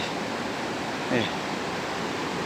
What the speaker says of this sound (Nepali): देख्न सक्नुहुन्छ खोला आइरहेछ